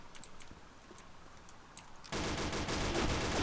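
AK rifle fire in the online shooter Combat Arms: faint clicks and ticks at first, then a sudden sustained burst of rapid automatic gunfire, loud and continuous to the end.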